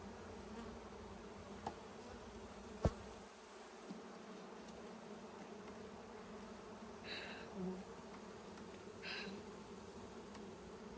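Bees buzz steadily around a healthy beehive outdoors, a low continuous hum with a few brief louder passes of individual insects near the ear and occasional faint knocks.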